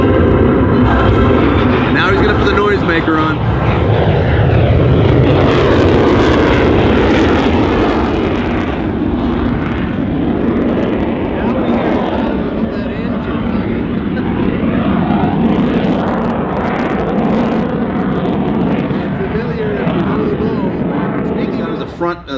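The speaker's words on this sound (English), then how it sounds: "you see slowly off to the right now, the U-2 approaches" A Lockheed U-2 Dragon Lady jet flies low past the crowd at the California Capital Airshow, its loud, sustained engine roar filling the air continuously while an announcer speaks over it.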